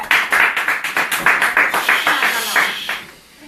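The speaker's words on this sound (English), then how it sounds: "You guys can clap in the back." A small live studio audience claps toward the back of the room, a loose run of distinct, fairly close hand claps in an uneven rhythm that trails off into quiet near the end.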